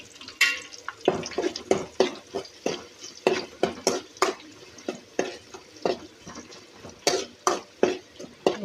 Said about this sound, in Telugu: ఉల్లిగడ్డలు పచ్చి వాసన పోయేంత వరకు బాగా వేయించుకోండి